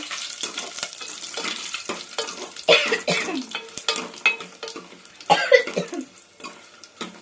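Crackling, popping sizzle of salted chillies frying in hot tempering oil, with bursts of spattering and the scrape of stirring.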